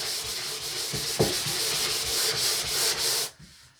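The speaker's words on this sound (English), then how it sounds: "let's start sanding." Steady, close scratchy rubbing of sandpaper scuffing a wooden bathroom vanity, repeating in strokes before cutting off near the end.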